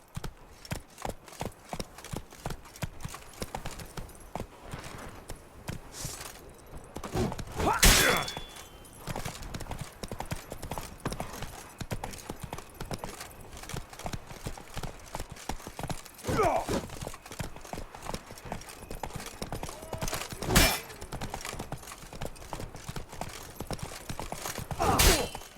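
Roach the horse gallops in The Witcher 3 with a steady, rapid clip-clop of hooves throughout, broken by a few louder bursts of impact, with no talk.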